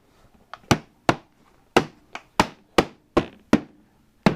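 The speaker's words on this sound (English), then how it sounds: "you want a rubber hammer" A rubber hammer taps a lid down onto a plastic food-storage bucket, about eight sharp, close knocks at a steady, unhurried rhythm with brief ringing decay between strikes.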